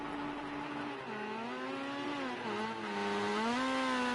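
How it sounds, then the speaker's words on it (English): A rally car in the racing game Rally Fighters, its engine droning and rising in pitch as it revs, steady and continuous without any talk. "You can hear a car revving"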